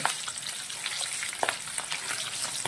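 Chana dal, urad dal and cabbage fritters deep-frying in oil on low heat alongside green chillies, a steady dense sizzle with occasional sharper crackles and pops, close and continuous with no talking.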